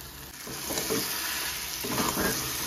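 Kochur loti is stirred with spices and sugar in a frying pan, a soft sizzle under repeated scraping strokes of a spoon, close by and moderately quiet.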